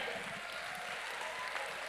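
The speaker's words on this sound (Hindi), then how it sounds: "एक बार भरपूर तालियां" Literature festival audience at Banaras Lit Fest 2024 gives a brief, steady round of applause, a faint, even wash of clapping lasting about two seconds.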